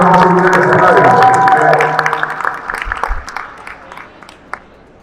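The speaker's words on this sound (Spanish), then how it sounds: "un aplauso para Nicaragua" An audience at a Miss Universe press conference claps and cheers for Nicaragua, loud and dense at first with voices mixed in, then thinning to scattered individual claps that trail off.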